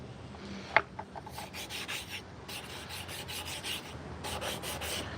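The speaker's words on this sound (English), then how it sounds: "Oh yeah, that's gonna sand out nice." A carved wooden teaspoon is sanded with quick bursts of dry scratchy rubbing, close and moderately loud, following a sharp tap near the start.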